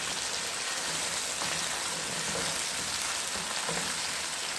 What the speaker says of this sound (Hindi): अब थोड़ा सा हम गोश्त को ज़रा फ्राई करेंगे।